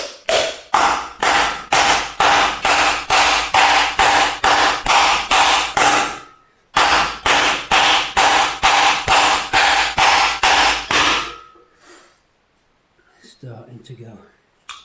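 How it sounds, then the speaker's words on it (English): Rapid, loud hammer blows ring out in two long even runs with a short pause between them, knocking out a piston on a Ford Cortina Mk3 during a restoration, then fade to faint clatter. "Hammer."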